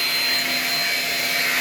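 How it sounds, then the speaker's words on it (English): A Shark Rocket vacuum cleaner runs in a bedroom, giving a steady, loud, high whining drone with an even motor hum and no talk. "let's go in my room and vacuum here"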